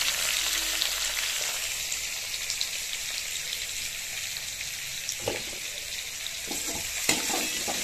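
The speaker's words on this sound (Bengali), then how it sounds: "এদিকে আলু আর এঁচোড় আমার ভাজা হয়ে গেছে।" Potatoes and young jackfruit fry in a wok with a continuous bright sizzle of hot oil, close and even, broken by a few sharp clatters of a spatula toward the end.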